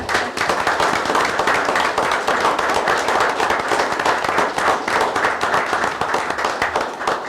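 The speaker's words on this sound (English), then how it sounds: "we better clap for you now" School board meeting audience clapping for families of trustees, a sustained loud burst of crowd applause with dense overlapping hand claps and no talk.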